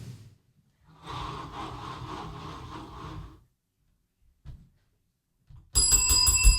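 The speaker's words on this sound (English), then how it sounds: "you want to ring that bell?" A bell rings near the end, bright and close, after a stretch of heavy breathing-like noise and quiet gaps.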